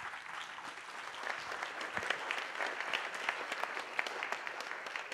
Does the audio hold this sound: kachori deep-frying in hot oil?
no